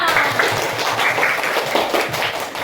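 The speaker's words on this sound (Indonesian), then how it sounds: "tepuk tangan dulu untuk kita semua" Classroom of students applauding together during an Indonesian lesson on computational thinking, a steady burst of hand claps lasting a few seconds with voices mixed in.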